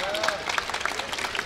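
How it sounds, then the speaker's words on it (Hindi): Audience at a mushaira poetry recital in Kurla, Mumbai, breaking into a short burst of steady clapping that fills the brief moment. "एक बार फिर तालियां बजाइए"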